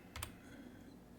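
Brief burst of two or three quick keystrokes on a computer keyboard while typing a web search, followed by a low steady room hum; close and fairly quiet.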